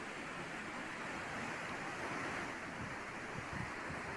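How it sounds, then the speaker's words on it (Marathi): Heavy rain-swollen Galhati river in Maharashtra, running brim-full after monsoon downpours, gives a steady, dense rushing roar like surf, continuous and loud with no gaps or voices. "गल्हाटी नदी सुद्धा दुथडी भरून वाहते"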